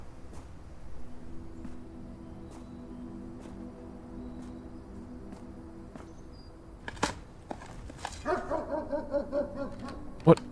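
Dog barks from the video game Blue Prince, a few short yips and barks clustered toward the end over quiet game ambience and faint background tones.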